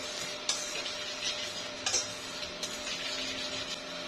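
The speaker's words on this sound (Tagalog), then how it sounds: "haluin natin siya para ma-incorporate yung mga ingredients" Dry pancake ingredients, flour, sugar and baking powder, being mixed in a bowl, with soft scraping and a few light taps of the utensil against the bowl, quiet and close, with no talking.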